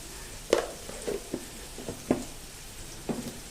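Onion frying in a pan until golden, with a faint background sizzle broken by several soft clicks and clatters of stirring spaced through the clip.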